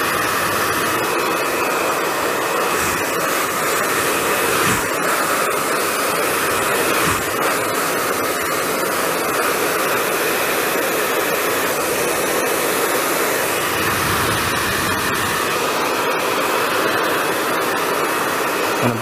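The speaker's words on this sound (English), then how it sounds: "the dryer is not right on top of the brush, because the power of the dryer is just pushing the hair onto the brush" A hair dryer roars continuously and loudly while medium-length hair is blow-dried over a round brush for volume, a steady close-up whoosh with slight wavering as it moves.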